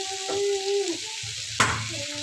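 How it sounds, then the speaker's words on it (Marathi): Fish pieces frying in a pan for a home fish fry, a steady sizzle under scraping and stirring clatter as the pieces are turned, with one sharp utensil knock partway through. "तर हे पुन्हा एकदा आलटी पलटी करून घ्यायची असं हे आलटी पलटी करून घ्यायचे"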